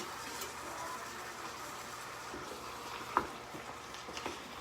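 Vegetables sautéing in a pot as the base for lasagna soup, a steady soft sizzle and crackle with a few faint clinks of a utensil, heard close in a home kitchen without talk.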